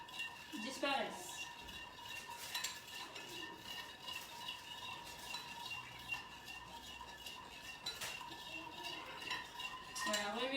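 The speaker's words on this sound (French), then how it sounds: "Et maintenant je remue à feu fort jusqu'à ce que le sucre disparaisse." Spoon scraping and clinking against a pot while rice vinegar, sugar and salt are stirred over high heat, irregular rhythmic knocks and scrapes, close but quiet, with a voice talking over parts of it.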